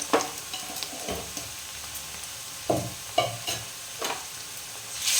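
Ginger, chilli and garlic paste fries with figs in a pan, making a constant sizzle punctuated by several stirring scrapes and knocks against the pan.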